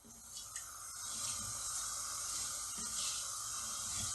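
Cumin seeds frying in hot oil over a medium flame for a lamb jalfrezi curry, a steady bright sizzle and hiss throughout with faint crackles, close and continuous with no talk.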